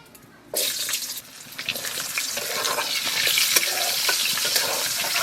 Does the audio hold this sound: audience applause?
no